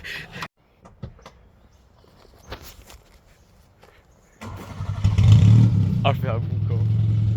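A Peugeot 205 with a straight-pipe exhaust starts partway through and settles into a loud, rough, deep rumble with a few revs. Before that come scattered clunks and shuffles, and people talk throughout.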